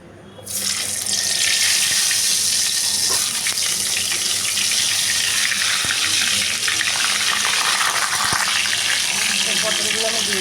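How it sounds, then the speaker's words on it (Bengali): Pieces of pointed gourd (potol) dropped into hot oil sizzle and hiss loudly, a steady, bright frying roar that begins suddenly and holds throughout, with a few soft clinks of the pan. "এদিকে কিন্তু আমার তেলটা গরম হয়ে গেছে, আর এরপরে কিন্তু আমি একটা করে পটলগুলো ছেড়ে দেবো।"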